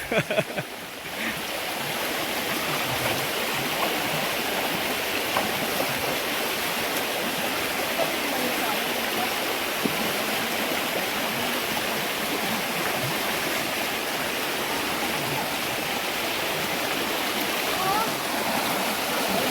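Steady rushing water flows continuously throughout, like a stream running over rocks, with faint voices briefly at the start.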